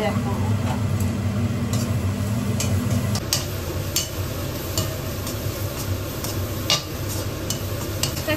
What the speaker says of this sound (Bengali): আর ক্রমাগত নাড়াচ্ছি এই কারণেই যাতে কোনোভাবে পেঁয়াজটা একটু বেশি কুক না হয়ে যায়